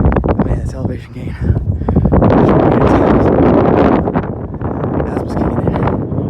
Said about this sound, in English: But the wind is nice, refreshing